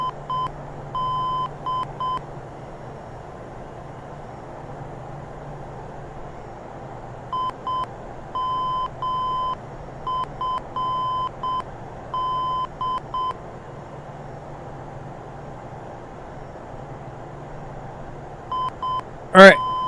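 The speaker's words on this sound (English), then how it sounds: "Why am I hearing the beeping?" Bursts of short electronic beeps repeat in clusters with pauses between them, a steady tone pattern recurring over a low background hum.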